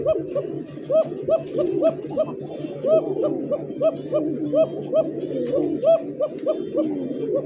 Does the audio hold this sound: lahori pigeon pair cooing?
yes